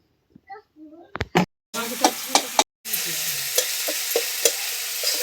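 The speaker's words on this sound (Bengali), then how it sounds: "দেখো মাছ ভাজা আমাদের রেডি হয়ে গেছে" Fish frying in a pan in traditional village Adivasi cooking, a loud continuous sizzle broken by sharp stirring clicks, with brief voices and clatter just before the frying starts.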